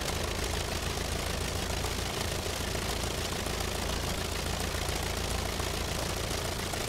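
A Curtiss JN-4 Jenny tail dragger in Microsoft Flight Simulator 40th Anniversary Edition taxis on grass at gentle throttle. Its engine gives a steady, close, unbroken drone and low rumble throughout, with no voices.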